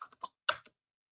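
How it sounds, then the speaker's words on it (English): A handful of quick, quiet keystrokes on a computer keyboard tap out a password, a short irregular burst of clicks followed by silence. "type in my password"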